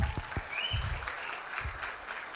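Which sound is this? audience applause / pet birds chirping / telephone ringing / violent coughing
audience applause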